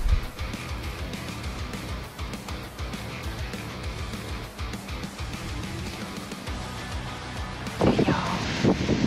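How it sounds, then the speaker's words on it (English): Steady, heavy wind roar buffets the microphone throughout, with a louder gust surging near the end. "Very windy. Very, very windy."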